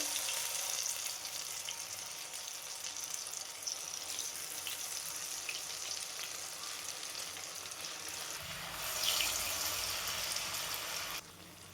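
Steady hissing sizzle of potato slices frying in hot oil, continuous and fairly close, with a brief louder burst of crackling near the end.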